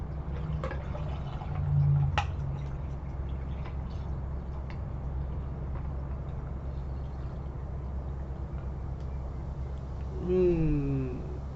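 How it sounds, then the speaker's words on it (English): Raspberry blueberry soda is poured into a cup close by, a quiet steady fizzing trickle with faint liquid gurgles, a small clink near the start and a brief rising bubbling at the end. "So let's pour the soda."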